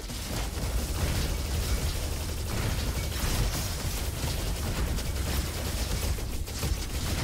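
Ionic Palms weapon firing rapidly in the shooter game Roboquest, a dense, continuous stream of crackling shots and bursts at a steady loud level throughout, with no talking.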